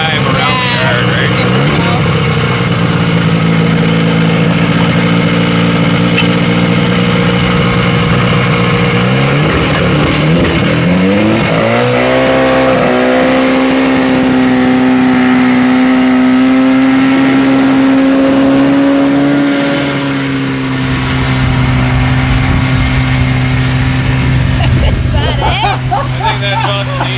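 A 1974 Johnson 440 engine with 310 original miles runs steadily and strains as it drives slowly around a yard, its droning tone climbing and holding, with people talking loudly over it.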